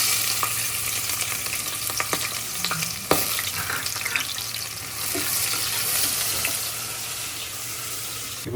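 Finely chopped onion frying in oil with cardamom and spices for a dry mutton dish, a steady broadband sizzle with scattered stirring clicks and a sharp scrape near the middle, no voices.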